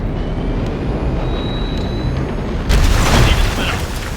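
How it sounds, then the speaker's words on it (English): A huge gate being blown open in Cyberpunk 2077, a loud, sustained rumbling roar that swells into a heavier blast partway through and rolls on to the end. "there's a monster gate that needs to be blown open."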